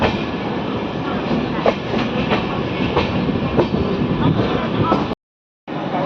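Inside a Konkan Railway 3AC coach of the Matsyagandha Express approaching Surathkal station, the wheels make a loud, steady rumble with faint clickety-clack beats, before the sound cuts out abruptly near the end.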